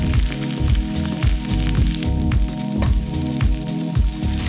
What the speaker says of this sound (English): Lobster's in. We're now gonna add our basil to wilt that down.